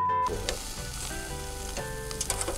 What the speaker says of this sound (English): Craig is over here cooking us, what, pork chops?